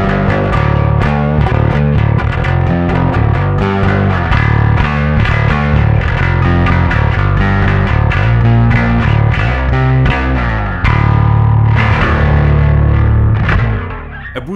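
Heavily distorted bass guitar riff through a Darkglass Harmonic Booster v2 into a distortion pedal, thick and saturated, played continuously with punchy repeated notes and a brief shift in tone near the end.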